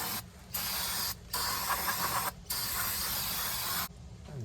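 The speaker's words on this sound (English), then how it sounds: "But first we need to hose these down." Old drum brake parts from a 1973 Pontiac Ventura being hosed down with water, a loud hissing spray in four bursts separated by brief pauses.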